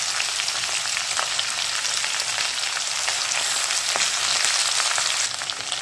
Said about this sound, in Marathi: भेंडी भाजून घेऊया गॅस मिडियम करायचं आणि एकसारखं भेंडी भाजून घ्यायची